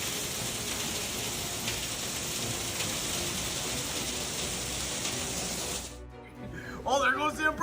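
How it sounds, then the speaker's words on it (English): Strong hail pours down into a backyard during a storm, a dense, steady roaring hiss for about six seconds before it cuts off and a voice starts speaking. "Strong hail poured down into the backyard"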